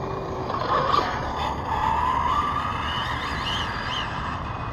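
Arrma Limitless GT RC car running fast on blacktop at night, a steady loud high-pitched motor whine with rising and falling tone, close and continuous with no talking.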